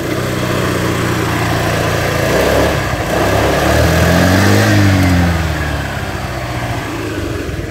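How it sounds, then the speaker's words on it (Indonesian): A used carbureted Honda Vario 110 motorbike engine idles loudly up close, then revs up and back down in a smooth rising and falling sweep before settling. "dinyalakan seperti ini, kemudian dicoba di gaspol"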